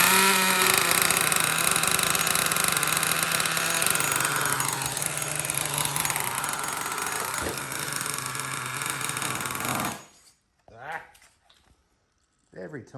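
A Revo 3.3 nitro engine in a barn-find RC truck, started with an Ezy Start, screams loudly and steadily with shifting pitch for about ten seconds, then cuts off into near silence with a few faint brief noises.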